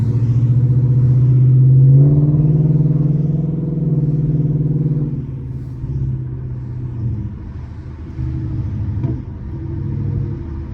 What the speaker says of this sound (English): You hear them backfires? Oh my god, you hear them pops?